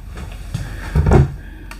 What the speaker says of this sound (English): Tall cabinetry, soft closing drawers, nice upgraded faucet.